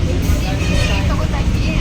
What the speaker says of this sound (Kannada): ಎಲ್ಲ ಬಸ್ ಹತ್ತಿದ್ದೀವಿ.